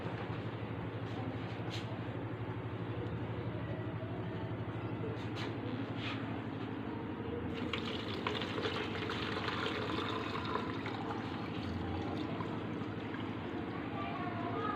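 Water draining from curdled milk while making barfi, a continuous splashing trickle that runs throughout, with a voice heard over it.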